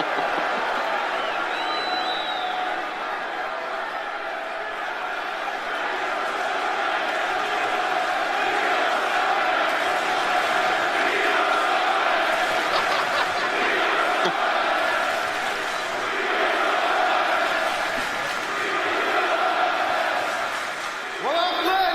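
A large live-show audience keeps up a steady, loud crowd murmur, with scattered chatter and a little laughter mixed through it.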